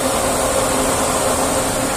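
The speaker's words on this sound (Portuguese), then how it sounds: "Ligou a mais forte agora, ó o barulho." A car's radiator cooling fan runs at high speed in an engine cooling system that is not circulating water, producing a loud, steady, close whooshing whir that holds evenly throughout.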